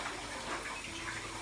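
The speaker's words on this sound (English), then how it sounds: "What is that magical flowing of water sound that I just heard?" A steady, gentle wash of flowing water, like a small stream running continuously at moderate distance with no breaks or speech.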